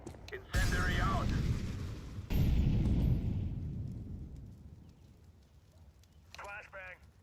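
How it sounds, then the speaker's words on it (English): Grenade explosions in the video game Counter-Strike 2, two heavy booming blasts a couple of seconds apart that roll off into a long decaying rumble, with voices and game callouts heard around them. "Grenade out"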